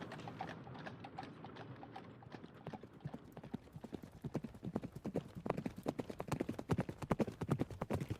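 Several horses' hooves clip-clop along a riverside track, starting faint and growing louder and closer into a dense, uneven patter of overlapping hoofbeats.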